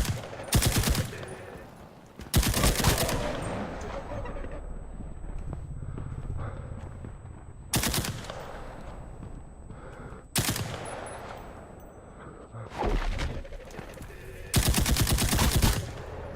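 Slow-firing gun in a video game: single loud shots and short bursts spaced several seconds apart, sharp and close, over a steady low background hum, no talk.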